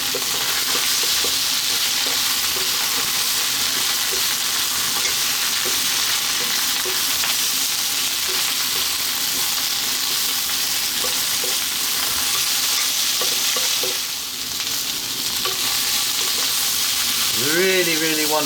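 Chestnut mushrooms fry on high heat in a pan with a loud, constant sizzle up close, stirred and tossed now and then so the hiss swells and dips briefly.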